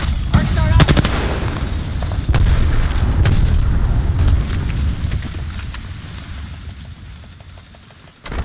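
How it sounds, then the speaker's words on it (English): In the Apex Legends battle royale, a thermite grenade detonates amid a firefight, with rapid gunfire bursts at the start giving way to a sustained roaring burn that gradually fades, and game voice lines heard briefly. "Throwing thermite grenade. Thermite grenade out."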